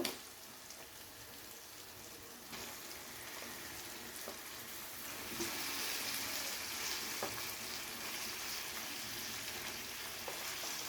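Chicken pieces added to a pan of fried tomato and spice masala, with oil hissing and crackling in a steady, close sizzle that grows slightly louder partway through, punctuated by faint clicks of stirring.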